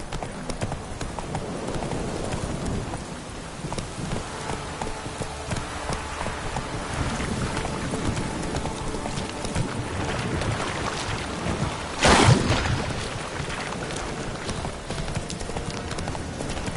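Roach, a horse in The Witcher 3: Wild Hunt, gallops with loud, rapid clip-clopping hoofbeats, heavy and continuous under wind-like rushing noise, with a brief louder burst near the end.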